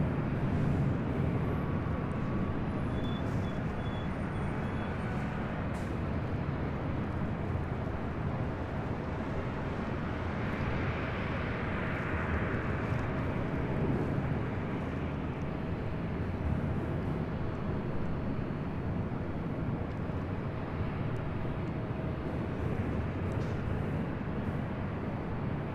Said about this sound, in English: Now taking off is Southwest Airlines 3061, taking off to Las Vegas